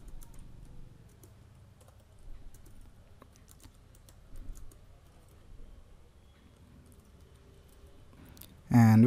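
A computer keyboard is typed on while writing JavaScript code, with soft, fairly faint irregular key clicks that run throughout, followed by a louder burst at the very end.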